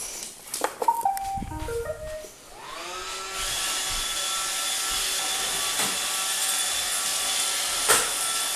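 A Roomba robot vacuum starts up and runs with a steady whirring hiss that holds from about three seconds on after some clattering, fairly quiet and alone without talk.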